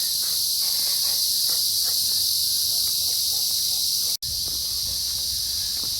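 Cicadas drone in a loud, continuous high-pitched buzz that fills the air without pause, briefly cut off once near the end.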